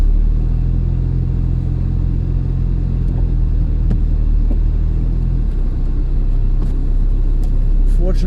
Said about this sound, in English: we're going to reverse gingerly off the driveway